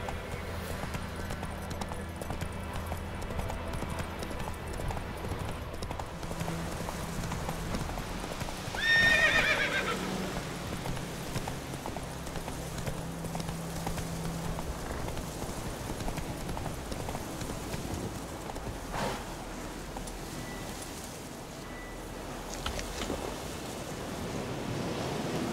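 Roach the horse galloping in The Witcher 3, with steady rhythmic hoofbeats throughout, a loud neigh around the middle, and a background of wind and surf.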